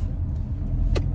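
A pickup truck's engine rumbles at a low, steady idle from inside the cab, with a brief faint squeak near the end.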